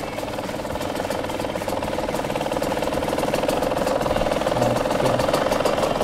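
A Yamaha YZ125X dirt bike engine idles steadily with a rough, knocking rumble, running continuously and close by with no one speaking.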